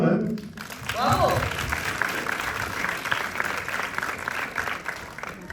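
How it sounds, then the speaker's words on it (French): Audience applause at a French film premiere Q&A, a dense, steady clapping from a full room lasting several seconds, with a voice speaking briefly at the start over it. "applaudir Hugo quand même"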